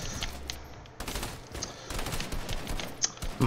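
A pump shotgun fires in the Fortnite video game: several sharp, booming shots come in quick succession over busy game noise, with no speech.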